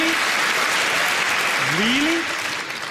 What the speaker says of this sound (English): A round of applause on a joke about the worst thing that's ever happened?